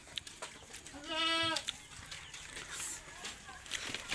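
A goat at a rural home gives one clear, fairly close bleat with a wavering, harmonic call, against quiet outdoor background with faint rustling.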